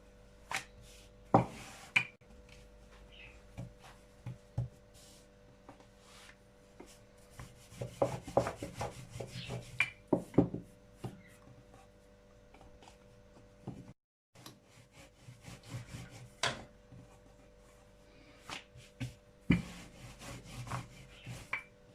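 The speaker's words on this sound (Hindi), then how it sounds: "अब हम रोटी बेलते हैं" Radish paratha dough being rolled out with a rolling pin, soft rubbing and wooden rolling strokes with occasional light knocks, close and intermittent in a quiet room.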